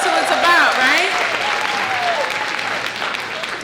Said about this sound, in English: Let's stop and clap for our students